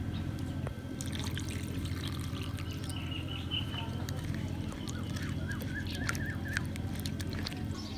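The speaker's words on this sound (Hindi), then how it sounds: "प्याज को एक दफ़ा पानी से धो लेंगे।" Water runs steadily over onion being washed for a tomato onion raita, a close, continuous trickling and splashing with small gurgles throughout.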